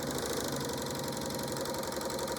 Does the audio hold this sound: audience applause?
no